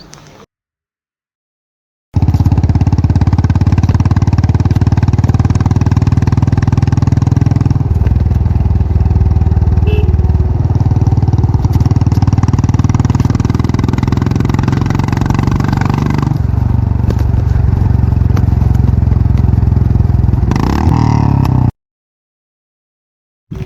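A KTM motorcycle engine runs steadily and loudly up close, a deep throbbing idle with shifts in pitch as the revs change, cutting out near the end.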